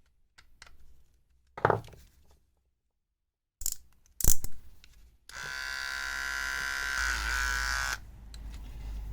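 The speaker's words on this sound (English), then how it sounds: "There are my 30-year-old pair of Remmington hair trimmers fixed." A 30-year-old 1990s Remington hair trimmer with newly replaced batteries gives a few small clicks as it is handled, then switches on to a steady, loud electric buzz that runs continuously to the end.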